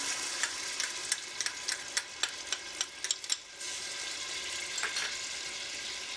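Chopped garlic frying in warm olive oil gives a steady close sizzle, with a run of sharp crackles and spits early on before it settles into an even hiss.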